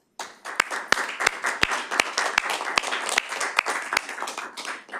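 Applause and scattered sharp claps fill the room at a monthly board meeting as staff are congratulated, steady and close for several seconds.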